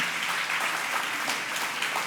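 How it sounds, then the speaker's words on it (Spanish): A congregation applauds together at a church gathering, a steady wash of clapping from many hands held at an even level for a couple of seconds with no voices over it. "date un aplauso pues por ponerme atención"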